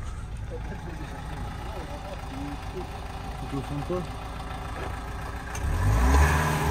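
A Renault Megane 2 convertible engine idles steadily with a low rumble, then revs up louder near the end, while people talk over it nearby.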